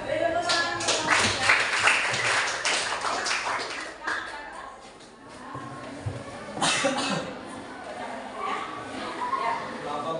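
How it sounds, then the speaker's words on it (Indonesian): A group claps in a classroom, a burst of loud overlapping claps at first, then fading, with a second smaller round later, mixed with people talking and shuffling. "beri tepuk tangan"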